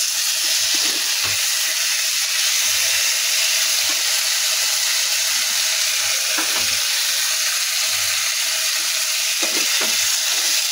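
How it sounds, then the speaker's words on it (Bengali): Meat braising and frying in a pan, a loud steady hissing sizzle close up with a few faint clinks of stirring over it and no talk. "মাছের ঝালটা হয়ে গেছে, মাংসটা কষাচ্ছি।"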